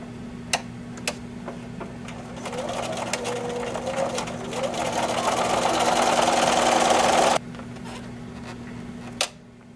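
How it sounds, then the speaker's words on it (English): A home sewing machine runs a steady line of stitching across a quilted reversible placemat for several seconds, whirring evenly at close range, then stops abruptly, with faint clicks before and after. "Now I'm going to sew another line, and I'm going to run this guide along my previous stitching."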